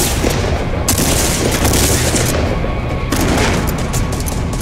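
Sustained automatic gunfire in Fortnite Battle Royale, loud continuous bursts of rapid shots with a brief dip near the middle before the barrage resumes, close and dominant, no voices.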